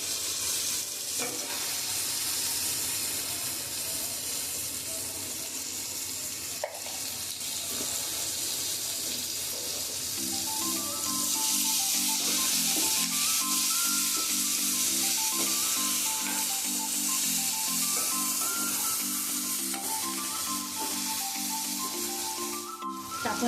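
Okra frying in a pan with spices and salt, a continuous bright sizzle over steady background noise, with a tonal melodic sound running through the second half.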